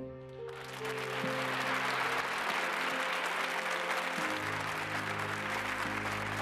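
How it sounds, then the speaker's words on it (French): Audience applause breaks out after a short sustained musical tone, a thick, continuous wave of clapping from a large crowd that holds at full strength to the end. "À la fin, il y a des applaudissements"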